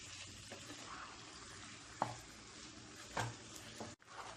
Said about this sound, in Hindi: हम इसमें मैरिनेट किया हुआ चिकन डाल देते हैं। चिकन डालने के बाद चिकन को हमें बहुत अच्छे से भूनना होगा।